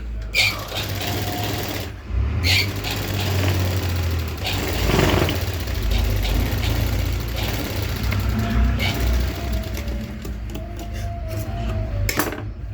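A sewing machine stitching along the edge of a designer blouse, a loud close motor whir with steady rapid needle clatter that runs almost continuously, pausing briefly a couple of times, with a voice talking at points.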